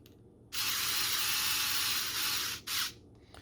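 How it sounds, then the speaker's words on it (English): An axle bushing assembly being worked on gives off a loud, steady mechanical whir for about two seconds, cuts out, then returns in a short final burst, with no talking. "I tighten it up, then loosen it enough to where it spins."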